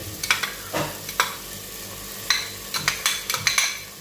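Pinakbet vegetables stir-fried with bagoong alamang shrimp paste in a pan, giving a soft steady sizzle broken by several sharp scrapes and clinks of a utensil against the pan, close and with no talk.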